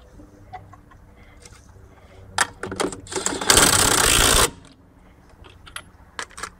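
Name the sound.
impact guns with sockets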